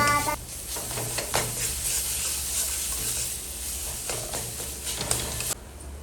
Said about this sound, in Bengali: মশলাগুলো দেওয়ার পর একটু সর্ষের তেল দিয়ে দিলাম ভালো করে মশলাটা আবারও কষে নিব